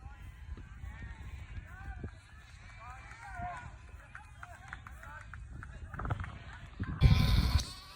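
Sheep bleat in scattered calls while a flock is gathered on a hill for shearing on Fair Isle, faint and somewhat distant over low rumbling movement, ending in a louder burst of close noise.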